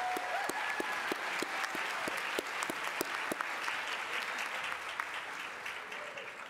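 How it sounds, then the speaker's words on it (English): Sustained round of applause at a winter university commencement for the Milliken Saxophone Ensemble, a moderate, even wash of many hands with a few sharper individual claps standing out near the front. "Can we have one more round of applause for the Milliken Saxophone Ensemble"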